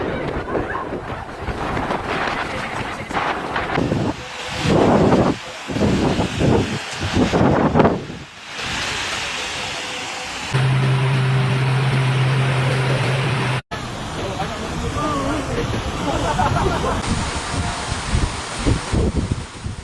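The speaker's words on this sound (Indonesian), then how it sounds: "hujan deras turun disertai angin kencang yang menerjang" Heavy rain driven by strong, gusting wind during a storm in Surabaya, a loud continuous roar and rush with buffeting bursts throughout.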